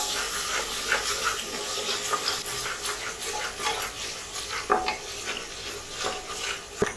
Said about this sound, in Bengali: এবার আমি ভালো করে মশলাটাকে কষিয়ে নেব